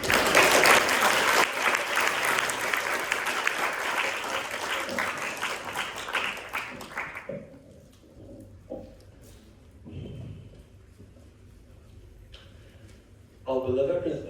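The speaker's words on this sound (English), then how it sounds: "Let's give him a round of applause." A round of applause from an audience at a school society talk, loud, dense clapping for about seven seconds that fades away, followed by quieter room noise and a brief renewed burst at the end.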